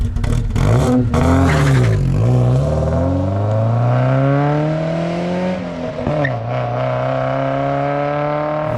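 A 1987 Alfa Romeo Spider engine with the factory muffler replaced by a straight pipe revs loudly up and down, then climbs steadily through the gears, close and raspy.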